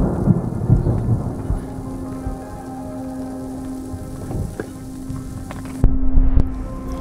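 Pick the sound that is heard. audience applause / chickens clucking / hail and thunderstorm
hail and thunderstorm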